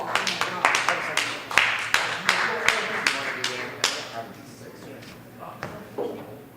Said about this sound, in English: Big round of applause for Evan!